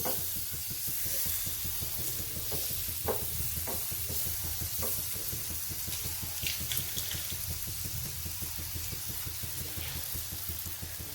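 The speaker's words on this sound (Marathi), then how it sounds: "आता परत बटर टाकू." Aloo methi paratha roasting in butter on a pan gives a continuous close sizzle, with rhythmic scraping and pressing strokes throughout and no talking.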